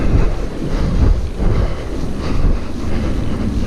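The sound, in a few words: wind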